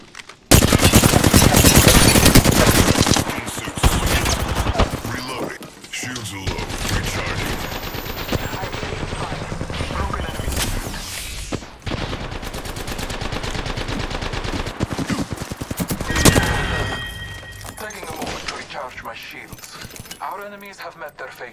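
Automatic weapon fire in the video game Apex Legends, a loud opening burst followed by ongoing rattling volleys and mechanical clatter, with voices talking over the shooting throughout.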